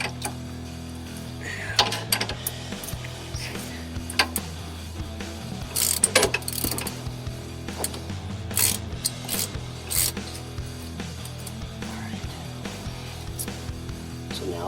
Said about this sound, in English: We need to remove the sway bar.